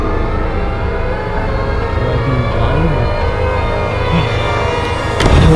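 A loud, wavering Siren Head siren wail from a video game drones continuously over a low rumbling background, with the pitch slowly rising and falling.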